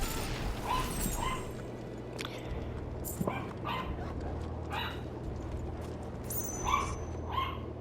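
A dog in Final Fantasy XVI gives repeated short barks and yips at irregular intervals, over a steady low game ambience.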